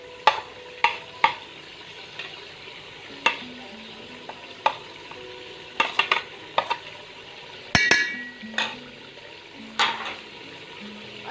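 Dry spices being stirred into meat in a cooking pot for deghi palak gosht, with soft scraping and sizzling broken by sharp clinks of a spoon against the pot at irregular intervals, quiet and near, without speech.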